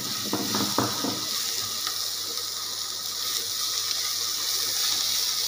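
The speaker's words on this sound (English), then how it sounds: "After this I am going to add onion cut into small pieces." Chopped onion fries with curry leaves in a pan, a soft continuous sizzle with a few light stirring clinks early on, faint and steady throughout.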